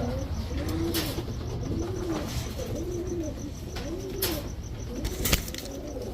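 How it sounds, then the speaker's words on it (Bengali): Trained high-flying Giribaz pigeons, a male and female pair among two pairs, coo in a series of soft, rounded, repeating calls close by, with occasional brief wing flaps and light clatter in the background. "এগুলো হচ্ছে আপনার পাল্লা করা কবুতর"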